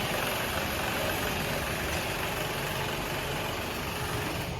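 A farm tractor with a Joskin trailer hitched behind idles steadily while being refuelled during wholecrop harvest, a continuous broadband engine drone with no breaks or speech.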